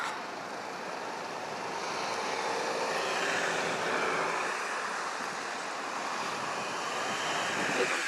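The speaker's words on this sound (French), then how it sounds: "comme vous avez vu, il y a pas mal de vent." Strong wind blows steadily outdoors in London, a broad continuous roar buffeting the microphone for the whole stretch with no pause and no voices.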